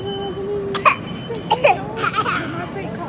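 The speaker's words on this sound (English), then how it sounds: "Fake cough." A person fakes a cough with a few short, forced throat bursts amid casual talk at home, with other voices around.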